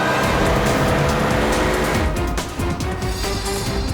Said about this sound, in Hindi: जल्दी गाड़ी चला